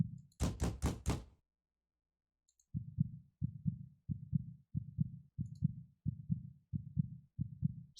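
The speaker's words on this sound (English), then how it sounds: "Someone's knocking from the top of the stairs." Knocking from the top of the stairs in a video game: a quick burst of three or four loud raps, a pause, then a long steady series of evenly spaced dull knocks, alone in silence.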